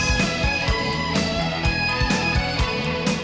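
Electric guitar run through effects pedals into a droning, bagpipe-like tone, with a steady driving beat and pulsing accents under sustained reedy notes, loud and full.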